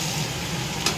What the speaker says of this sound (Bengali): পেঁয়াজটা একটু আদা রসুন পেঁয়াজটা ভালো করে ভেজে নিচ্ছি।